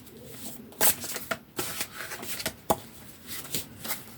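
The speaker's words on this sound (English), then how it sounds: "They are much bigger cards and therefore hard to shuffle." Large, stiff tarot cards being shuffled by hand, with repeated riffling bursts and sharp snaps at irregular intervals, close and fairly quiet.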